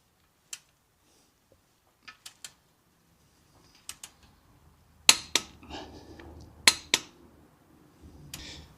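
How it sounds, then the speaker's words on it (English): Torque wrench tightening the gearbox drain plug, fitted with a new washer, on a 1.0 manual Hyundai i10: a few sharp, faint metallic clicks in short groups, then louder clunks and ratcheting over low background rumble. "we torque this up to 70 Newton meters"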